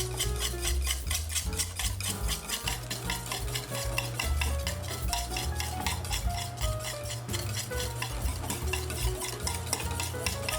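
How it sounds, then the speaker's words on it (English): Olive oil is whisked into Caesar dressing in a bowl, a quick, steady, rhythmic scraping and clinking of a whisk against the bowl, close and alone without talk. "we'll gradually add 1 tablespoon of olive oil while whisking everything together"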